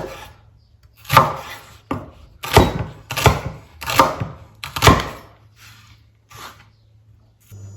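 Knife chopping a vegetable on a wooden board, about eight crisp separate cuts in an uneven rhythm, close and clear with quiet pauses between them and no talking.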